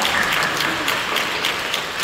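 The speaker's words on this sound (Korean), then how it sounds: "여러분 뜨겁게 박수로 환영해 주십니다." Steady applause from a church congregation welcoming new members, a dense continuous patter of clapping throughout.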